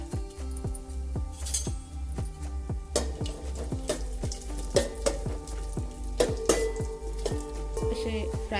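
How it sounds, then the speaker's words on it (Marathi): Cashews, almonds and pistachios fry in a spoonful of ghee for carrot halwa, a gentle sizzle punctuated by frequent sharp metallic clinks of a spoon against the pan, close and with no talking. "आता हे मी इथे काजू बदाम आणि पिस्ता हे घेतलेलं आहे आता हे फ्राय करून घेणार आहोत"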